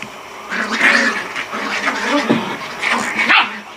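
A small puppy barks and yips sharply in two close bursts of several barks each, loud and near.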